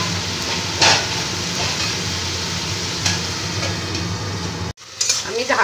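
Jute leaf curry with vegetables simmering in a covered pot with a little water over a low gas flame, giving a steady soft sizzle and bubbling throughout, with a couple of brief clinks and a sharp break near the end.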